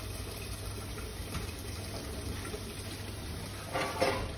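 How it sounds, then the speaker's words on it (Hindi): Water is poured into haleem in a pressure cooker, a faint low trickle under a steady hum that swells into a louder gush near the end. "अब हम इसमें पानी शामिल करते हैं।"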